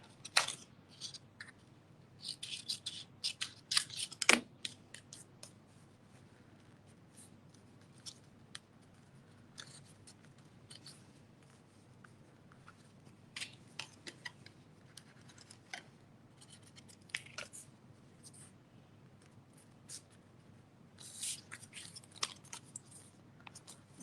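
Scissors snip a paper strip during Christmas crafting, giving quiet, scattered crisp cuts and rustles in a calm room, with a sharp click early on and a few busier bursts of snipping later.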